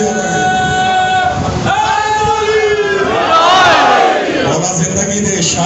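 At a Muharram majlis in a Lahore imambargah, a large crowd shouts religious slogans together in loud, chanted unison, with a lead voice calling and the congregation answering in a strong, rising roar close up.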